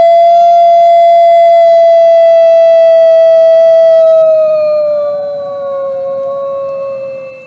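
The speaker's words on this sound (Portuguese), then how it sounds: "O monstro fez uma pausa, deu um uivo prolongado" A monster lets out a long, loud, prolonged howl that holds one steady wailing tone, then slides lower and fades toward the end, sounding much like a siren.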